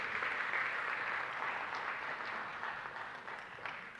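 Steady applause from a conference audience as panelists leave the stage, a continuous wash of clapping heard from some distance and gradually tapering off.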